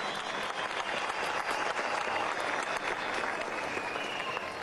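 A political rally crowd applauds steadily and fairly loudly for several seconds, a dense continuous patter of clapping with faint voices mixed in.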